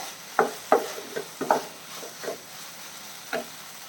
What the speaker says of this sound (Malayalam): എല്ലാം കൂടെ ഇളക്കി കൊടുക്കാം.